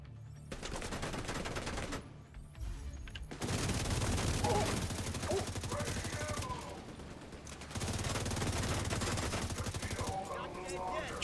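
Sustained bursts of video game gunfire, rapid automatic fire and scattered shots filling most of the stretch with brief pauses, while a player talks over it.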